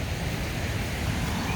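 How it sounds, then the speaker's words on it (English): A river swollen after storms near the Yantic waterfalls rushes past in a loud, steady, broadband roar with no break and no voices. "Rushing river."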